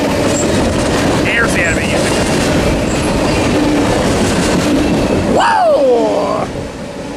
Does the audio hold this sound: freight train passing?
yes